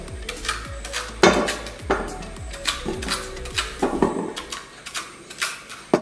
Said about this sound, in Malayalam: കപ്പ അരിയുക.